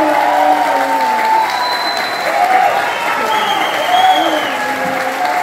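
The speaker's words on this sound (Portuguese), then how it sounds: "eu gostaria uma salva de palmas para o meu filho Robson." Sustained applause from an indoor audience at a tribute evening, steady dense clapping holding at an even level for several seconds, with voices faintly mixed into the crowd.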